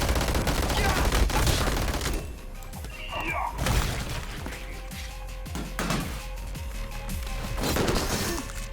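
Gunfire and impacts from the action game Madness: Project Nexus, with dense bursts of shots, crashes and clatter filling the clip, loudest at the start and returning in rough waves, mixed with game music.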